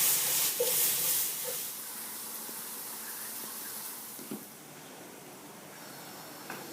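Mushrooms sauté with chili in butter, giving a continuous close hissing sizzle that starts loudest and gradually eases, with a few faint clicks of a utensil.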